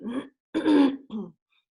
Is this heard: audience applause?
no